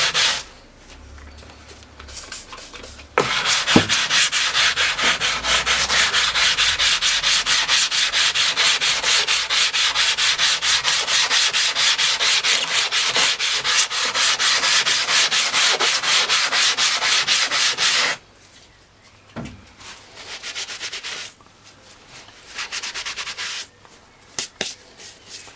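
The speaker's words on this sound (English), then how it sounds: "I'm just going to sort of almost polish it up with the light grit here," An old oil stone is rubbed flat on 120 grit abrasive, making a continuous gritty scraping of close, steady strokes for about fifteen seconds, followed by a few sparser rubs.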